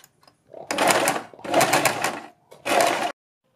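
A sewing machine stitches a strip of fabric in three short, close bursts separated by brief pauses, the last one cut off abruptly.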